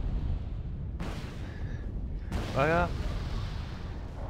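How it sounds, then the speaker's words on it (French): Missile explosions in the Wargame Red Dragon video game, two sudden booming blasts about a second apart with low rumbling tails, heard alongside a brief spoken word. "il y a des dégâts de zone avec les explosions des missiles"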